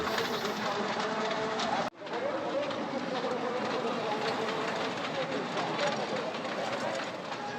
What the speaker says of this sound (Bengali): আমার মেয়ে ও ট্রেনটিতে খুব আনন্দের সাথে ভ্রমণ করছে